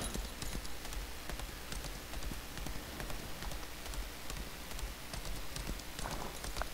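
Horse hooves galloping in the video game Lost Ark, a fast, steady clip-clop rhythm that runs throughout at a moderate level over a dense, rain-like rushing texture, with no talk.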